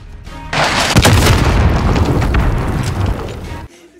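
Gunfire in an Afghanistan firefight: one loud, close roar of booming shots and blasts bursts in, holds heavily for about three seconds, then cuts off abruptly into quiet.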